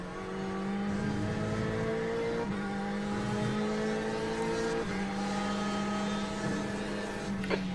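GTE race cars lapping Le Mans in iRacing, their engines holding a steady loud drone with sustained tonal whine that shifts pitch at gear changes and corners, continuous and close throughout.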